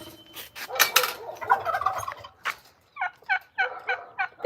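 Geese honking outdoors on a spring day, a loose series of loud nasal calls, some overlapping early, then shorter repeated honks in a steady rhythm toward the end.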